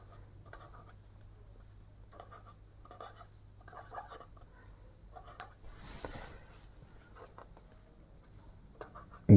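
A pen scratches across paper in short strokes and bursts, close and quiet, pausing between words during a class 6 math lesson, with a louder knock at the end.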